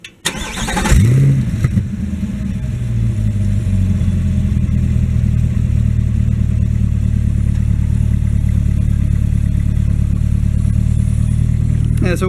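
A car engine idling steadily right beside the exhaust tip, muffled by a bolt-on silencer, with a brief rev near the start and then a constant low, even drone throughout.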